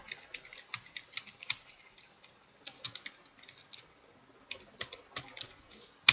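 Someone types on a computer keyboard while entering text in a Microsoft Word document, soft close key clicks in quick uneven bursts with short pauses and a sharper tap at the end.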